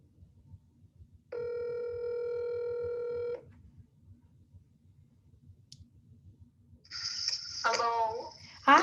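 A phone call is placed: a steady electronic tone sounds for about two seconds, a quiet pause follows, then a ringback tone starts near the end.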